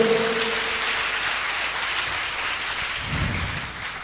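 Sustained congregation applause in a church during a Pentecostal sermon, a dense, steady wash of clapping that holds at an even level for the whole stretch, with no voices over it.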